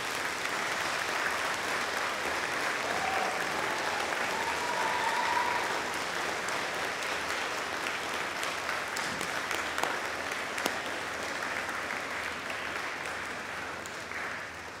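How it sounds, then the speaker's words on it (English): Sustained, loud applause from a crowd of new graduates standing at a university graduation ceremony, steady dense clapping lasting throughout with no talk over it. "ask the new graduates to stand and applaud all your supporters and friends"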